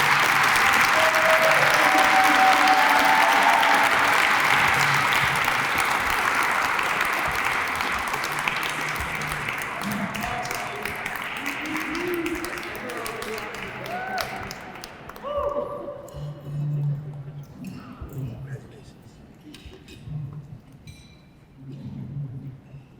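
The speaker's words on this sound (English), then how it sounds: "Please, another round of applause." Audience applause at a Black History Month closing ceremony honoring community members, a loud sustained wave of clapping that fades after about fifteen seconds into scattered claps and murmuring voices.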